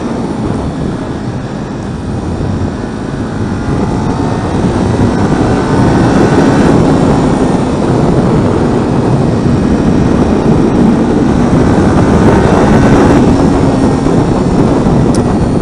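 A Kawasaki motorcycle engine revs hard under throttle while riding, a loud, continuous roar blended with heavy wind rush, with the pitch rising and falling as it pulls.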